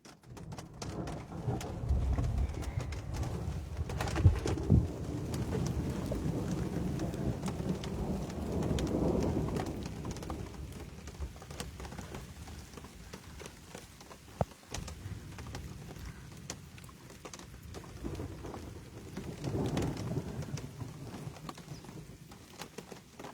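A thunderstorm during cold camping brings steady rain on surfaces with deep rolling thunder swelling several times, loud and continuous with no talk.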